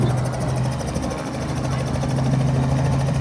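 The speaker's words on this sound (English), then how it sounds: "Take off, the best part. Like being on an airplane, eh?" A loud, steady whirring engine drone with rhythmic blade-like pulsing, like a helicopter lifting off nearby on the Geelong waterfront at sunset.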